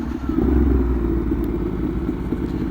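Ducati Monster 1200 R motorcycle engine droning steadily while riding, a loud, close, continuous low rumble with no speech.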